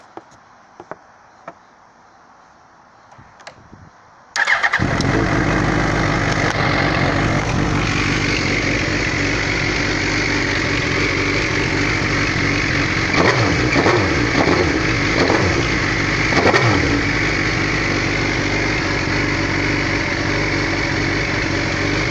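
After a few quiet clicks, a 2005 Suzuki GSX-R1000 motorcycle engine starts and idles loudly up close, with several throttle revs rising and falling.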